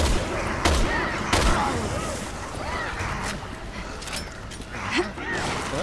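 Gunfire in a video game, scattered loud sharp shots and bursts set against a dense, noisy battle background.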